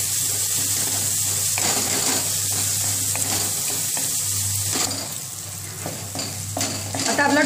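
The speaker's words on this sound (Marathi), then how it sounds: "मॅश होईपर्यंत आपल्याला परतायचं आहे।" Tomatoes with a little turmeric sautéing in a pan until they mash down, a steady loud sizzle with spoon stirring throughout, easing slightly toward the end.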